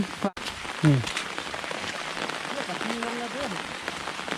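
Steady rain patters on a surface throughout, with a brief clunk near the start and faint background voices and sounds mixed in.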